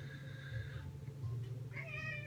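A pet cat meows twice close by, a drawn-out meow followed by a shorter one, against a low background hum.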